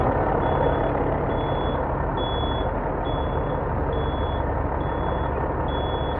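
A truck backs in at a truck stop, its reversing alarm sounding steady evenly spaced beeps over a loud, continuous diesel engine rumble throughout.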